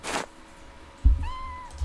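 A cat meows in a Sherlock Holmes video game, one short, fairly quiet meow after a soft thump, heard alone against a faint room hum.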